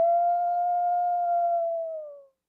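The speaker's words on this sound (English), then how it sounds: "Let's live and let howl." A lone wolf's howl, a single clear sustained tone holding steady for about two seconds before dropping away into silence.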